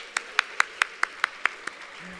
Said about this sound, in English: Round of applause for all of you guys.